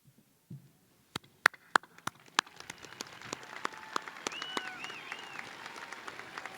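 A few scattered claps at a Jefferson City High School 2019 graduation quickly spread into steady, moderately loud applause from the audience.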